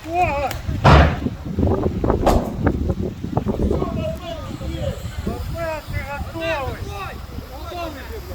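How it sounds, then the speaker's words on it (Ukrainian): A grenade explodes during assault training on a private housing sector, one loud sharp blast early on followed by ringing and wind noise, while people talk and call out over the aftermath. "Граната другий"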